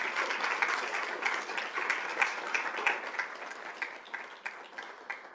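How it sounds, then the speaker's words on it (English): Audience applause at a school district governing board meeting honoring an elementary school, a steady wash of many hands clapping at moderate volume that thins into a handful of distinct, spaced claps toward the end. "So a big round of applause for Country Meadows."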